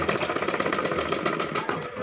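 A sewing machine stitches a blouse, running as a steady, close mechanical whir with a rapid needle chatter that continues unbroken throughout, with no talk over it.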